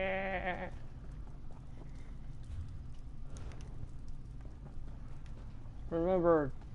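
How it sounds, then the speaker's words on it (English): Goat bleating in the video game Elder Scrolls Online, two loud wavering bleats, one at the start and one near the end, with quieter game ambience and clip-clop sounds between. "Goat."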